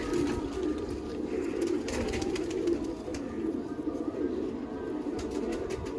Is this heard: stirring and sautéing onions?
no